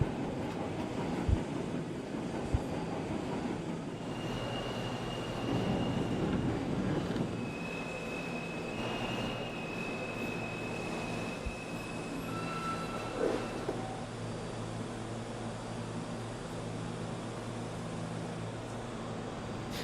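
A New York subway D express train runs through snowy conditions, a fairly quiet steady rumble and rush with faint squeals and a few clanks, no voices.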